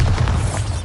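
A Bombarda spell explosion in the video game Hogwarts Legacy lands as a brief, deep, muffled boom that rumbles low and heavy for under a second, with no talk.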